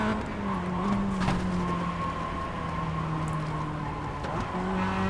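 Race car engine from the iRacing sim on a qualifying lap, a steady sustained drone holding pitch down a long straight, close and continuous with no talk.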